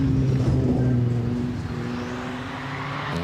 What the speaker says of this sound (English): And we just hear the Quattro, the Dakar Quattro has left the start line.